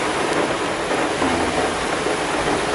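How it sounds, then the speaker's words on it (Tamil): Steady rain falls outdoors during the moving of bee boxes to another garden, a dense, even hiss that stays loud and constant throughout with no voices. "நான் வண்டியில் மழை மழை பேஞ்சிகிட்டு இருக்கு இப்போ"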